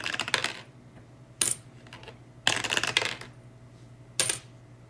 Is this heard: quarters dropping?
yes